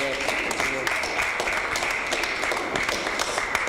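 An audience claps for the children at a Sunday school graduation at the ISKCON temple in Harrisburg, a continuous, even round of applause lasting the whole moment.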